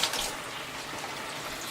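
Tap water runs steadily into a sink while salad vegetables such as cherry tomatoes are rinsed, a soft continuous splashing rush at moderate level.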